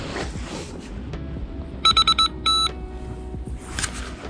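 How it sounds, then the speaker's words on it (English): Electronic device, a fishing bite alarm, gives a short burst of four quick high beeps followed by one longer tone, clear and close over a faint outdoor background. "The beeps on this."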